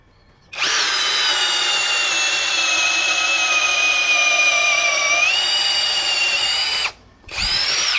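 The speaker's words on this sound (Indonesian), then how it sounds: "Ini kayu balok mati 16 mili auger bit ya." An APR AP34+ cordless impact drill bores a 16 mm auger bit into a solid wooden beam, a loud steady whine that starts after a moment of quiet, dips in pitch partway through, stops briefly, then restarts.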